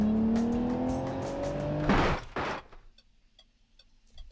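A car in the BeamNG driving game revs with a rising, strained engine tone, then two sharp bursts of crash or skid noise cut through, followed by quieter clatter and rattling debris.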